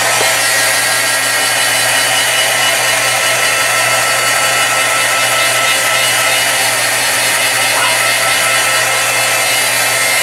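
A hair dryer drying paint on a mixed media painting, blowing a loud, constant, airy whoosh close by for the whole stretch, with no talking.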